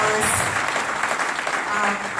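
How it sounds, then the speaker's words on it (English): Church congregation clapping for their lead guitarist, a continuous wash of hands under a preacher's voice and scattered voices in the room. "Clap your hands for him."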